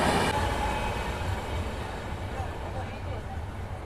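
A Karimnagar to Tirupati weekly superfast express with LHB coaches runs with a continuous, steady rumble near Peddapalli Junction, fairly loud and unbroken throughout.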